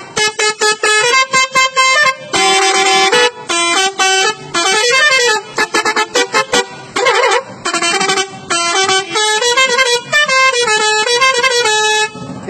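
A musical air horn on an Indian truck blares a loud, close melody of rapid tooting notes that rise and fall in quick bursts, with brief gaps between phrases and no talking.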